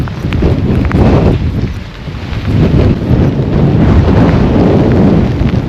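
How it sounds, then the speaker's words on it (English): Heavy rain and gusting wind on an exposed mountain top produce a loud, continuous roar of buffeting noise against the microphone, swelling and dipping without a break. "Okay, it's heavy rain now."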